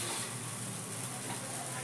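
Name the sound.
dosa batter sizzling on a hot griddle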